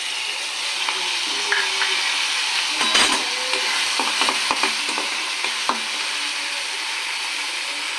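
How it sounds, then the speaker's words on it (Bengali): Ginger, garlic and onion sizzling in oil in a wok with a spatula scraping and clinking against the pan, steady frying hiss throughout with a busy burst of stirring in the middle, close and alone. "আদা রসুন পেঁয়াজটা দিয়ে দেবো।"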